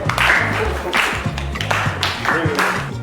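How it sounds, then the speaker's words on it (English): An audience claps for a correct answer during a community session on fires in marketplaces, with short bursts of applause mixed under ongoing talk. "Okay, let's clap for her."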